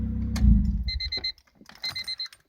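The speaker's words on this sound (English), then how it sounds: "I hate that Honda sound. That fucking beeping." A Honda car's electronic warning chime beeps in two quick bursts of even, high-pitched tones, following a brief rumble of the engine.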